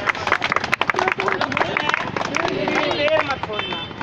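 Onlookers at a street magic show clap after a trick in which a boy produces three pigeons, a busy scatter of hands up close mixed with chatter, a voice speaking loudly over the crowd.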